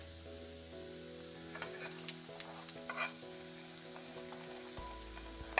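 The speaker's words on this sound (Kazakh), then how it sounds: "Және де астын жай қойып 5 минут, 10 минут қуыруды ұмытпаңыздар" Onion-filled dough envelopes made with green onion and yeast-free dough fry in oil, giving a steady, close sizzle with faint crackles and light clinks, no one talking.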